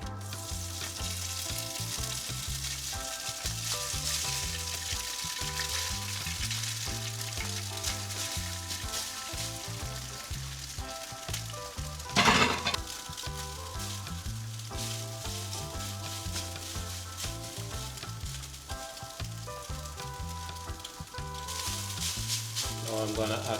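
Ramen noodles stir-fry in a pot for chicken chow mein, a steady close sizzle with a sharp louder crackle midway while a voice talks faintly underneath.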